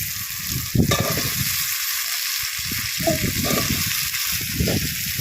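Cut potatoes tumble into hot oil and spices in a pan, a loud steady sizzle with repeated scraping stirs and a splash near the start.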